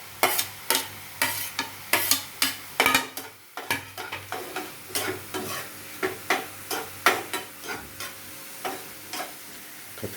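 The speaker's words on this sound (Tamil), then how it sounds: "இப்போ நம்ம இதில் ஆனியனும் கேப்சிகமும் அட் த சேம் டைம் நம்ம இதில் போட்டுக்கலாம்." Onion and capsicum sizzle in a pan for mushroom fried rice while a spoon stirs and scrapes in steady, regular strokes, close and clear with no talking.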